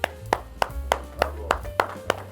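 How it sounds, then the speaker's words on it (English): At a demonstration room of the High End Munich 2023 audio show, slow, evenly spaced hand claps ring out, about eight sharp smacks in steady rhythm, close and distinct rather than a crowd's roar. "So applause."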